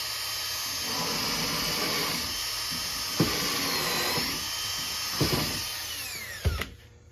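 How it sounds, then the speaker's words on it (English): A power drill whirs steadily at close range driving a screw into a composite decking board for a screened bottom board, its whine rising and falling with a few sharp knocks as the bit bites in. "And I'll go ahead and just drill this one in right now."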